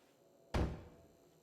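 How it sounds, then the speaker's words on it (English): A single heavy thud as a locked door is kicked in the Fallout 4 video game, a sudden low boom that fades quickly into quiet. "trying to kick that door down. Ugh, damn it, it won't budge!"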